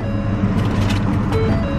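A parked car's engine idles steadily, a constant low rumble that stays close and even throughout with no talk over it.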